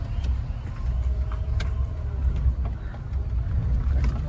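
Steady low engine rumble and road noise from inside a car moving slowly during a driving lesson, continuous and fairly loud with faint clicks.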